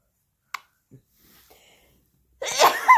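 A baby sneezes once, a short sharp burst heard close, followed by a faint small sound and near silence, then an adult voice speaks at the end.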